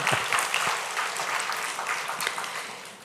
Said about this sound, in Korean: 우리 박수로 네, 감사합니다.